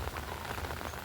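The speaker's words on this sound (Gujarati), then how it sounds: "અત્યારે હું તમને બતાવું વરસાદ" Rain falls steadily onto flooded village fields and an umbrella during a heavy monsoon downpour, a soft, even patter heard faintly and alone.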